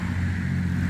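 A car engine drones steadily and fairly loud throughout a short moment as a Porsche goes by on a road near cemetery grounds.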